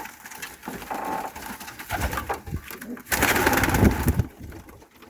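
White pigeons coo in low, throaty bursts close by, overlapping with some rustling and a faint voice in the background.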